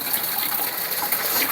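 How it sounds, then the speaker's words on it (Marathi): Water gushes steadily from a pipe pulled off a water-pump motor, a loud, continuous close rushing splash with no pauses. "इथं पाणी सगळं अंगावर यायचं पाईप काढल्या."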